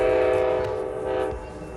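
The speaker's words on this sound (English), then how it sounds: "The horn of an approaching train rings out as the nearby crossing barriers begin to fall" An approaching Amtrak Carolinian passenger train sounds its horn near a Raleigh station crossing, a loud sustained multi-tone blast held for over a second before tapering, with low rumble beneath.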